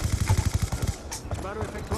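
Rapid bursts of automatic gunfire in a first-person shooter game, a dense, loud rattle of shots in the first second, then lighter scattered shots under game voice callouts.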